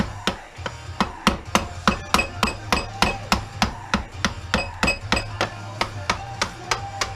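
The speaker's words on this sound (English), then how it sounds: "And then you hammer underneath." A screwdriver is struck repeatedly with a hammer to pry apart a part of a Sharp Carousel microwave oven being scrapped, about twenty sharp metallic knocks in a steady rhythm, close and clear over a low hum.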